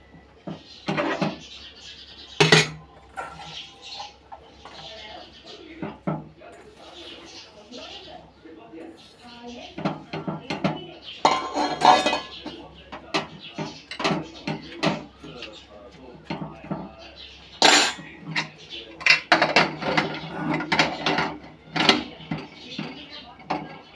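Masoor dal with turmeric and pumpkin stems is stirred in a pot, with intermittent metallic scrapes and clanks of the spoon while a person talks over much of it.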